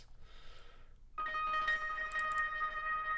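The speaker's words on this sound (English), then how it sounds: "Vintage keys, and I kind of ran them through some little Alter Boy" Vintage keys played loosely on a MIDI keyboard and run through Alter Boy, Chroma Verb and Echo Boy effects, with a faint filtered phrase that gives way to sustained shimmering tones and bright echoing notes.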